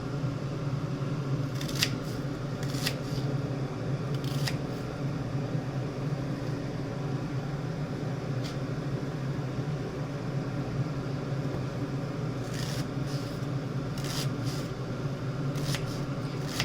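A knife chops onions on a cutting board while poha is prepared, giving scattered crisp taps, single and in small clusters, over a steady low background hum.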